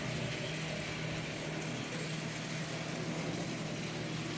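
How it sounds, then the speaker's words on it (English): Old Marx antique toy train motor running on a bench, a steady close whirring and gear ratchet hum with a faint electrical whine, continuous and even throughout, with no talking. "that old motor is running just absolutely splendidly"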